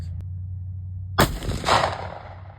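A Mossberg 500 shotgun fires an Aria Ballistics elephant slug outdoors, one loud sharp blast with a rolling echo that fades over a second, after a low steady hum.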